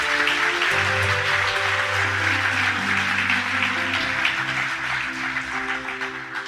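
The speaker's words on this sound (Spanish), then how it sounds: "Démosle ese fuerte aplauso a nuestro Dios." Steady applause from a church congregation during a Christian sermon, sustained throughout, with soft musical tones underneath.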